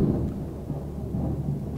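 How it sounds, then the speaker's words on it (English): Thunder rolling during a storm, a low, deep, sustained rumble with faint rain texture, moderately quiet and distant-sounding, with no talking. "That was thunder."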